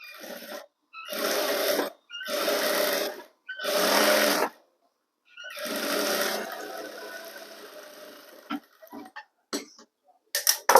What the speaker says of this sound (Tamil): இப்போ இதை மடித்து ஒரு தையல், மார்க்கு பிரகாரம் ஒரு தையல் போட்டுருங்க.